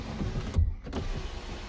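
The electric sunroof of a 2017 MINI Cooper S D 2-litre whirs briefly as it tilts, a short motor hum lasting about half a second amid quiet cabin ambience.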